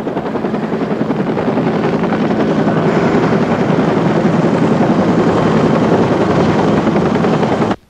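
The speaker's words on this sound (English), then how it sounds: "When I watched that helicopter go up" A medical rescue helicopter takes off, its rotor and turbine roaring loud and close in a steady, dense drone that holds for nearly eight seconds before cutting off abruptly.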